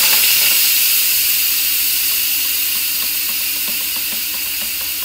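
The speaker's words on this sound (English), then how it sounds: "let the steam out of our Instant Pot" Steam vents from an Instant Pot in a home kitchen as a loud, steady hiss that holds at full strength throughout and fades only slightly by the end.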